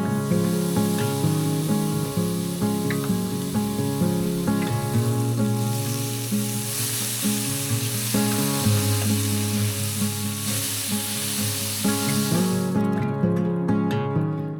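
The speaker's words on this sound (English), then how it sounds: "Before I cook the pierogies, I actually want to cook some bacon first" Bacon frying in a pan at a campsite, a loud, steady sizzle that crackles continuously beneath a bright, sustained hiss, with no one talking.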